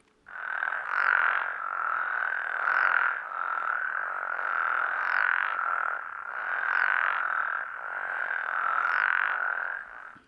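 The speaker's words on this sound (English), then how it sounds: "this is a spectrogram of what the frog chorusing looks like when it's in a very healthy pattern" Toads chorus at Mono Lake, a healthy chorus of steady, overlapping croaking trills rising and falling in loudness over ten seconds, with no voices.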